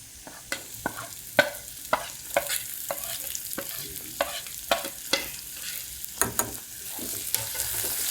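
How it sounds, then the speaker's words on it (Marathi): Chopped onion and spinach frying together in a pan for Sindhi sai palak, a steady sizzle broken by a series of sharp scraping stirs at irregular intervals, close and moderately loud with no talking. "त्यातच मी कांदा पण चिरलेला टाकते, म्हणजे दोन्ही ॲट अ टाइम फ्राय होते."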